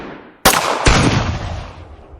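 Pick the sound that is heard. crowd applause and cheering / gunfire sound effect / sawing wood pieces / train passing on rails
gunfire sound effect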